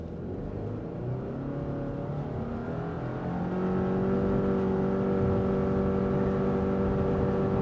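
A 2024 Subaru Impreza RS engine with CVT revs steadily under hard acceleration, a sustained rising drone that grows louder and holds a strong, even tone throughout.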